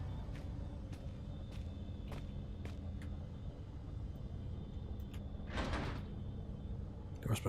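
A heavy door in the horror game Penumbra: Overture rattles and clunks shut with one loud scraping burst near the end, over a low, steady ambient rumble and a few faint knocks.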